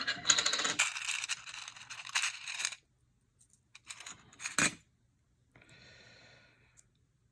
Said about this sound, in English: And let me open up this here case and I'll show you.